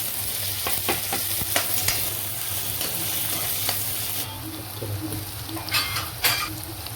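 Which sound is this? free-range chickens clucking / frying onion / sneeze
frying onion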